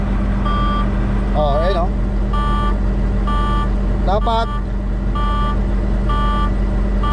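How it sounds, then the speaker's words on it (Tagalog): A truck's low air pressure alarm beeps in a steady repeating pattern over a constant engine idle hum, with someone talking briefly in the cab. "Mawawala na yung alarm na yan pag above 60."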